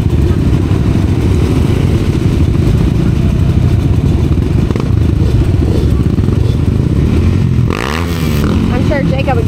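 A heavy enduro motorcycle, around 500 pounds, ridden hard through the woods, its loud engine droning and revving steadily throughout, with a brief rising rev near the end and talk over the noise.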